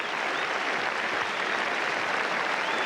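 Cricket crowd at Headingley in 1976 applauding Alan Knott reaching his century against the West Indies, a dense, sustained roar of clapping at full strength throughout.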